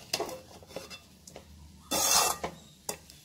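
Egg rice with soy sauce stirred in a pan, giving a series of dry scraping and rasping strokes of a utensil against the metal, with one longer, louder scrape partway through and no voices.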